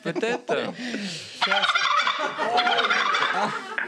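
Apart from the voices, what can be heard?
turkey gobbling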